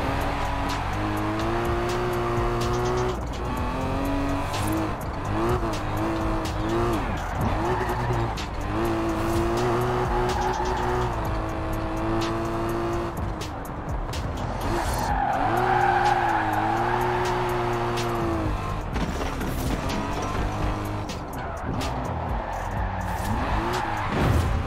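A Mercedes-Benz in Forza Horizon 4 with a non-standard engine revs hard, its tone rising and falling through gear changes while the tyres squeal and skid almost continuously, loud and close throughout.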